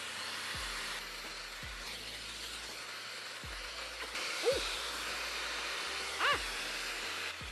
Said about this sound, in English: I'm going to try the more natural method of giving it a little bit of a blow dry